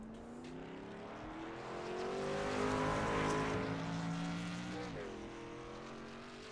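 Race cars running on a track in a racing video game, engine drones rising and falling as several cars rev through a tight corner, loud and layered, with a gear shift near the end.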